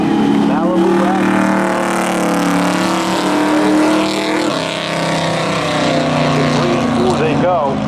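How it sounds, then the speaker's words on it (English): A Malibu wagon and a Honda CRV drag race at a Memorial Day thrill show's spectator drags, their engines roaring loud and steady throughout with revving surges and a passing rush near the end. "Kyle Buchanan in the Malibu going up against Kevin Drysdale in the Honda CRV."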